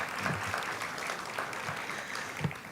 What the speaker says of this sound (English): a round of applause for everyone who is presenting today